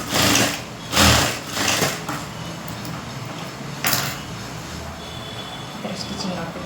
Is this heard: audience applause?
no